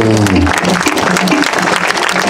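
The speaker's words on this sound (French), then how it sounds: "je vous demande de les applaudir" A festival crowd applauds steadily at a Heiva dance festival, a dense wash of clapping after a brief spoken phrase at the start.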